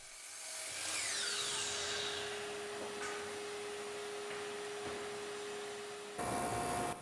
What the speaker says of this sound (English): clean up the edges with the EdgeTech sanding disc